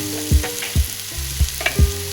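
Two spoonfuls of tomato paste fry in a pan with very little oil, a steady sizzle broken by four or five low thuds of a spoon stirring against the pan.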